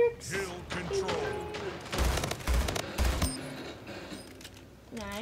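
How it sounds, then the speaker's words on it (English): Burst gun firing in the video game Splitgate, several quick clusters of sharp shots in the middle, set among other game effects and scattered clatter. "this is a burst gun"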